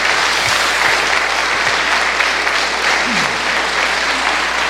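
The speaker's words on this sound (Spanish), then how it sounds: "Démosle un aplauso al Rey de Reyes por tanta bondad" A church congregation claps loudly and continuously, a thick, even wash of applause that fills the whole stretch without a break.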